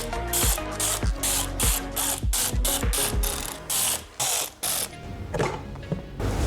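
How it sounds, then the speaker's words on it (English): A ratchet spins out the transmission oil pan bolts on a BMW 540i, giving rapid bursts of sharp clicking close up, each burst separated by short pauses as the tool is reset. "Remove the bolts."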